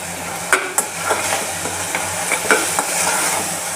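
Bottle gourd halwa is stirred with cardamom powder and coarsely ground almonds mixed in, a close, steady sizzle with a spoon scraping and tapping the pan every half second or so.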